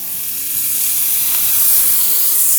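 Pieces of alligator meat sizzle steadily on a hot grill plate, a loud, close, continuous crackling fry with no voices over it.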